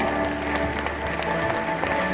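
An audience at an awards ceremony for a rural farm leaders' association gathering claps steadily, a dense crackling applause at moderate loudness throughout.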